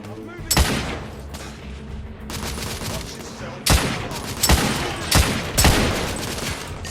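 Heavy gunfire aimed at a sniper in The Order video game: several sharp, loud shots and bursts over a continuous rumble of battle, with a voice speaking under the din.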